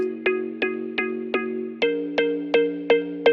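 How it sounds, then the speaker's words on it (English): A synth mallet line from a deep house track plays a repeating pattern of bright, plucky notes at an even tempo, about a dozen hits, shifting lower partway through, clean and upfront with no other sounds. "So I have this mallet sound that comes in and it sounds like this."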